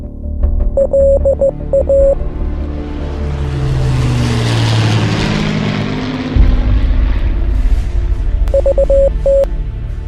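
Avro Lancaster bomber ED865 S for Sugar with its propeller engines droning loud and steady, the roar swelling broadly through the middle and staying heavy to the end, with brief beeping tones at the start and finish.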